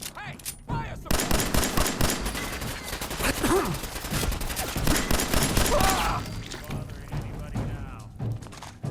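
Gunfire in the video game Fallout 4, a dense burst of rapid shots and heavy thuds running for several seconds, loud and overlapping with voices speaking throughout before tapering off.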